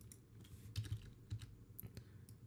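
Soft, faint clicks of computer keys being pressed, a few irregular taps in quick succession.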